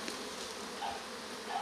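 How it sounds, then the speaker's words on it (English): Honey bees buzzing thickly around a frame of honey lifted from a hive, a close, steady drone with a few brief higher-pitched whines rising out of it. "I'll get some of those bees off."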